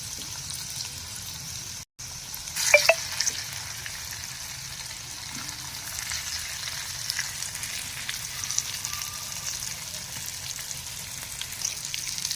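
Stuffed okra pieces sizzling in hot oil in a pan, a steady bubbling crackle throughout with a few sharper spits as pieces go in.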